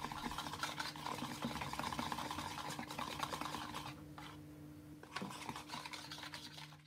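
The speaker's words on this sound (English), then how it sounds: "And again mix it all." Taiyaki batter being mixed again after two spoonfuls of baking powder go in, a steady close scraping and stirring of utensil against bowl with soft rasping rubs, pausing briefly partway before resuming.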